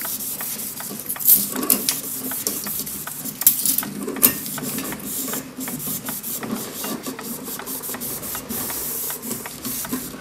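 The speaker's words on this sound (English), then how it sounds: "slowly rub the spring backwards and forwards to remove the dirt" A clock mainspring from an American clock barrel rubbed back and forth by hand to strip dirt, dust and old oil, giving a steady, close scraping rasp with irregular strokes and a few sharper ticks.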